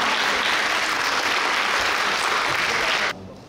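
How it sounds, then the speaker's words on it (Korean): Dense, steady applause from a forum audience welcoming a presenter from a health and social research institute, filling the room at full strength for three seconds before cutting off abruptly. "박수 부탁드립니다"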